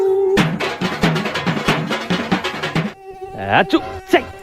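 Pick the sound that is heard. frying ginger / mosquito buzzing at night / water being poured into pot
mosquito buzzing at night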